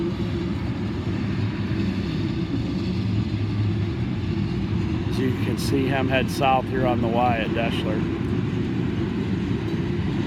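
A freight train of ethanol or crude oil tank cars rolls past at Deshler, a steady loud low rumble lasting throughout, with someone talking over it partway through.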